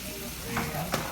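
Food sizzles in a hot skillet, a dense steady hiss with two brief louder flares as it is stirred, lasting only about a second.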